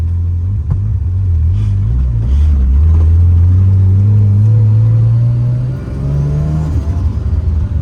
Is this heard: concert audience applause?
no